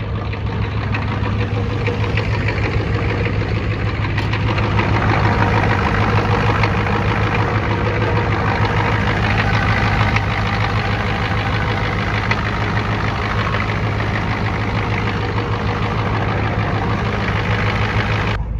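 A 1992 Ford F-250 with the IDI diesel engine, suspected of bad injectors, idles close up with a loud, steady clattering knock that holds for nearly nineteen seconds without talk.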